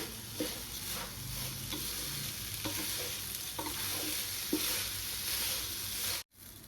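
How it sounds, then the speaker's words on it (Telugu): Sona masoori rice fries in a spice masala in a hot pan, giving a close, continuous sizzle broken by periodic stirring scrapes, with a brief dropout just before the end. "మసాలాలో రైస్ ఒక ఐదు నిమిషాలు బాగా వేగనివ్వాలండి"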